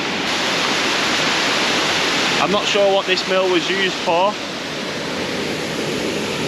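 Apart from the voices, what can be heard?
loud waterfall at ruined mill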